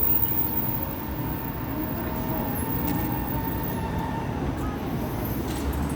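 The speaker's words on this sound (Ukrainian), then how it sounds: "Тролейбус поїхав восьмий" Low rumbling engine and road noise of a number 8 trolleybus pulling away from a stop near St Volodymyr's Cathedral in Kyiv, a continuous mid-distance drone that fades slightly, with city traffic behind.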